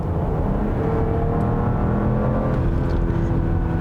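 A 2020 Porsche Cayenne Coupe with the base engine runs at a steady, loud engine and road drone that continues without a break.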